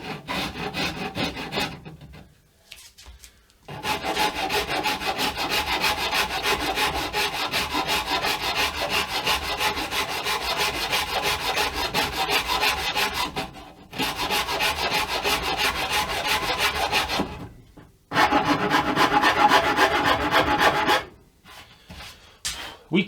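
A wooden guitar neck joint is smoothed by hand with steady, close rasping strokes that run almost continuously, broken by a few brief pauses, with no talking.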